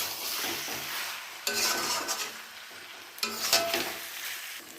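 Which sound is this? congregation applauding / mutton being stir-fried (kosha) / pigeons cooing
mutton being stir-fried (kosha)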